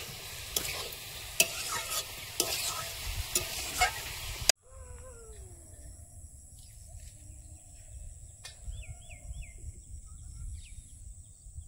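Tomato and prawns frying in a pan give a loud, steady sizzle with stirring scrapes. About halfway through the frying drops to a softer hiss, with crickets and birds audible outdoors in the background.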